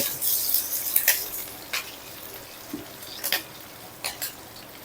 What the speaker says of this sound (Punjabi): ਉਹ ਰਾਈ ਜੀ ਤੜਕ ਤੜਕ ਕਰਦੀ ਹੈ